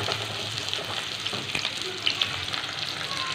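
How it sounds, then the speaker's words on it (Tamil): Onions and green chillies sauté in a pan, giving a soft, steady sizzle with faint stirring scrapes, quiet and close with no talk over it. "நல்லா கோல்டன் ப்ரௌன் வர வரைக்கும் நல்லா இதை வதக்கிக்கோங்க."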